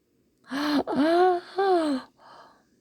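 A narrator's voice imitates a long, drawn-out yawn in two rising and falling vocal swells, followed by a short breathy exhale, close and clear with no other sound.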